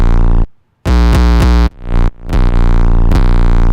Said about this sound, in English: I just clipped the shit out of this like standard 808